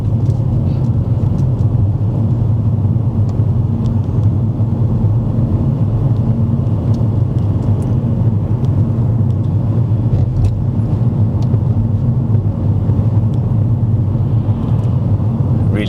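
Car driving straight ahead during a first driving lesson, a loud, steady low engine and road rumble filling the whole cabin with no clear rise in pitch.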